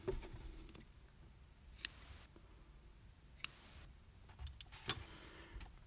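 Scissors snip through dark brown yarn during crochet work, a few quiet, sharp clicks spaced apart against a faint background, with no talking.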